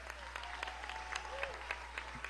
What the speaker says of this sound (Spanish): Un aplauso para UNEARTE.